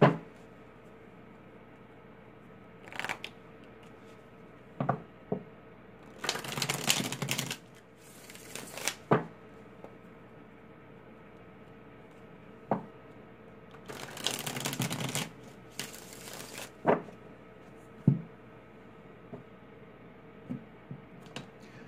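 Oracle cards being shuffled in two distinct riffling bursts, separated by quiet with occasional soft taps and clicks of handling.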